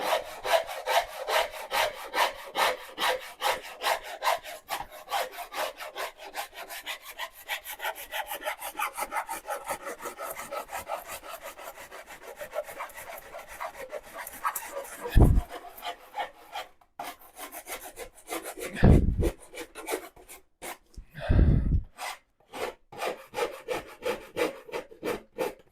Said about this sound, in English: Get the finer rasp saw or saw rasp on there, just the finer teeth.